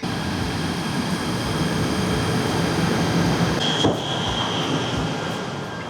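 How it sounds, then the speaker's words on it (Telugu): A train pulling into a city rail station in Malaysia, a steady loud rumble and hiss filling the space, with a brief squeal and clunk near the end as it slows. "ఇంకో 10 మినిట్స్లో ట్రైన్ వచ్చింది"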